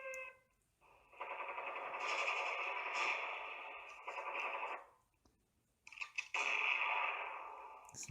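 A Xiaomi home alarm hub plays a sniper-gunshot ringtone, two long, loud electronic whooshing bursts with a short gap between them, each fading out, with faint tones at the start.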